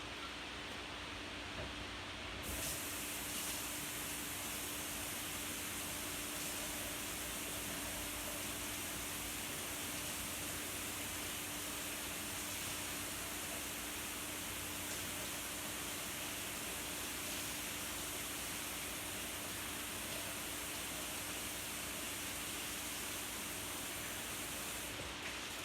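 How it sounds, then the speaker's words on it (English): Running water from a tap rinsing a produce cloth, a steady, even rush of water that holds unbroken for the whole stretch, close and moderately loud with no talking. "I'm going to rinse."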